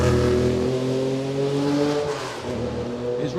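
Sports race cars roar through Pittsburgh at a vintage grand prix street race, one loud engine revving up and shifting with sweeping pitch changes as it passes close by, alone without commentary.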